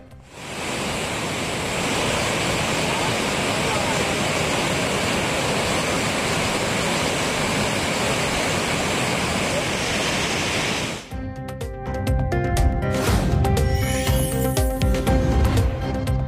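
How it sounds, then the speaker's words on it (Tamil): A flooded waterfall at Courtallam roars loudly and continuously, dense rushing water filling everything, then the sound cuts to a different scene with mixed noise. "குற்றாலம் அருவிகளில் வெள்ளப்பெருக்கு தண்ணீர் ஆர்ப்பரித்து கொட்டுவதால்"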